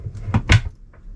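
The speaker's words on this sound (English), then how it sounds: "And then I've got another little cupboard over here." A small cupboard door inside a floating home on a boat opens with two quick close knocks and a brief creak, followed by a faint rattle, with no talking.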